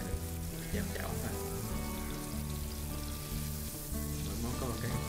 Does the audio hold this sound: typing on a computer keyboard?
no